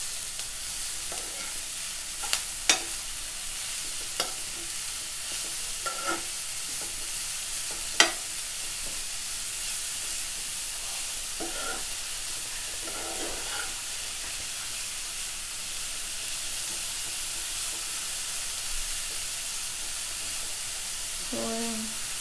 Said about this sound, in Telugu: ఇప్పుడు ఇది ఫ్రై అవుతూ ఉంది